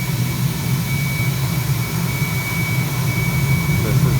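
Diesel burner on a home foundry roaring steadily, a loud close continuous rumbling blast with a constant low roar throughout, no talking.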